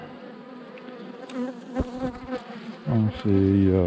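Honeybee colony buzzing steadily inside an open hive full of drones, a dense close insect hum with someone speaking briefly over it.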